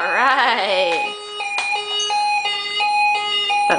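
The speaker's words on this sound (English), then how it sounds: "That sounds like a fire truck" A toy fire truck siren wails upward, then settles into a steady two-tone electronic alternation, loud and close, with a small voice audible faintly underneath.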